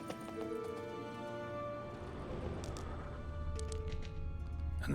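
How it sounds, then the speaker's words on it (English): Horse hooves clip-clop in The Witcher 3 video game, a steady run of hoofbeats under a layer of game music and ambience, growing slightly louder toward the end. "Another horse, almost exactly like the last one."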